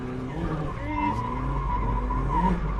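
Mazda MX-5 Miata drifting on a track with repeated clutch kicks: engine revving and rising in pitch under tire squeal and skidding, close and continuous, with a voice talking along.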